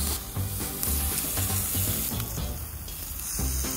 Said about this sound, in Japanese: ジュージュー言ってるじゃん